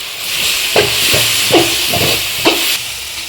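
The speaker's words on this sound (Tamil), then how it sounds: "கருவேப்பிலை சேர்த்து வதக்கிக்கலாம் ஃப்ரெண்ட்ஸ்" Curry leaves and softened tomatoes sauté in a pan for chicken gravy, giving a loud, steady close-up hiss broken by a few soft knocks of stirring, with no one talking.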